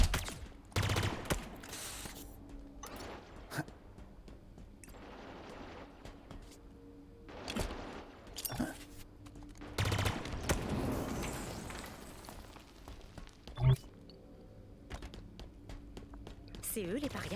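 Weapon fire in the video game Halo Infinite, scattered bursts of shots of moderate loudness over game ambience, with a voice speaking French between and under them.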